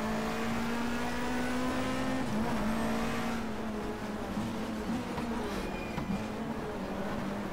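Touring cars including Honda Accords and a Ford Mondeo racing in BTCC 1997, engines droning loudly at high revs with pitch dips on gear changes, a continuous close pack sound with no talk.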